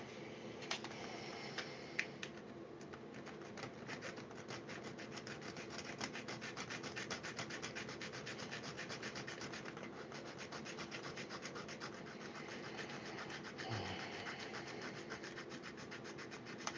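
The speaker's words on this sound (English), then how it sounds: "we're gonna have to sand that box just a little bit" A box is sanded by hand in a continuous run of close, quiet, scratchy rubbing strokes with a soft, fast, even rhythm.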